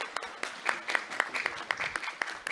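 An audience claps for the producers of a stage play, a small crowd's applause made of distinct, uneven hand claps, close and moderately loud, with a little talk mixed in.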